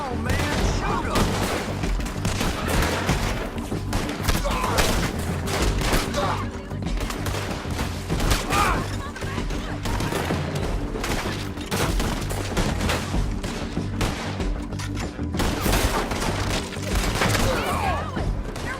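Dense, continuous gunfire from a Red Dead Redemption 2 shootout, with rapid overlapping shots, booms and impacts filling the scene, and voices shouting now and then beneath the barrage.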